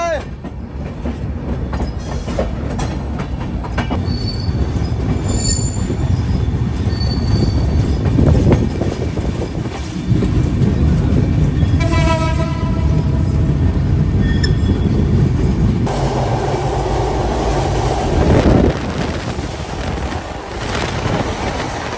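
The Madhumati Express rumbles along, heard from inside a chair-car coach: a loud, continuous rolling drone with rattling carriage noise and a burst of high wheel squeal partway through.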